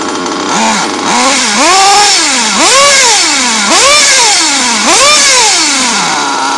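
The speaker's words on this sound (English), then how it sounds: "Italian motors, they like to run rich, especially modified." A modified Italian motor on a mini bike revs hard and close, climbing and dropping in four or five repeated surges over a raspy, buzzing idle, loud throughout with no voices.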